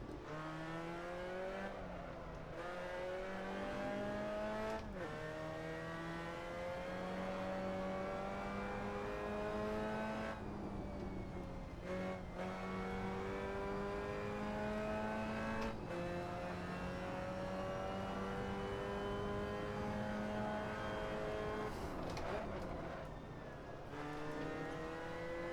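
Racing cars on a Gran Turismo track in a video game, a continuous loud engine drone rising in pitch through revs and dropping at each gear shift, repeating over a long stretch with no speech.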